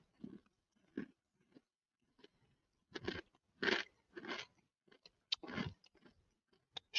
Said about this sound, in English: Shattering crunch.